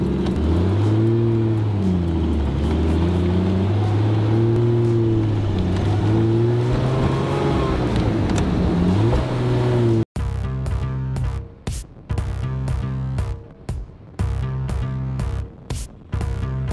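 Triumph TR6 roadster engine and exhaust under way, a loud, close, steady drone that rises and falls with the revs, then gives way to a sharply pulsing, choppy run of engine tones.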